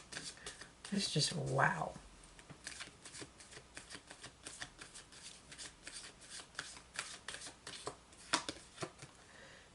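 Archangel oracle cards being shuffled, a quick papery riffle and flutter that repeats close by under a woman's speech and a surprised exclamation.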